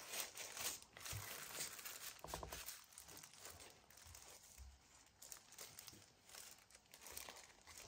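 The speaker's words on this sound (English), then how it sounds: "And then let's take a paper towel" A paper towel crumpled by hand, giving a dense, close crinkling and crunching that runs for several seconds with no talk.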